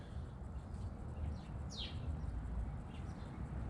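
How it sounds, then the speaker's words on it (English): A small bird gives a few faint, brief chirps while eating leaves off a plant, scattered high calls over steady outdoor background noise. "This little bird is eating leaves off this plant, and it's ridiculously adorable."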